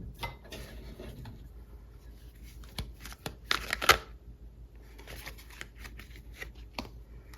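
Tarot cards being shuffled by hand during a love reading, a soft continuous riffle and slide of cards close to the mic with a few brighter snaps in the middle, quiet and with no talking.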